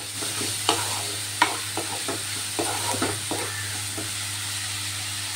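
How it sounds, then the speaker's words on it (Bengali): Grated cauliflower frying with spices in a hot pan, a steady sizzle running throughout while a spatula scrapes and stirs in a few sharp, close strokes. "সব কিছু ভালোভাবে ভাজা ভাজা করে নেব।"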